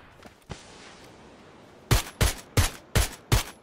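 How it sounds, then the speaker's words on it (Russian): Gunfire in the video game PUBG, five sharp evenly spaced shots in a steady rhythm after a couple of fainter earlier cracks, loud and close against quiet background. "Я в поле стреляю"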